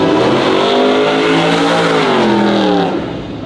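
A 6.0 nitrous truck engine revs hard and climbs in pitch as it accelerates, loud and close, then eases off near the end.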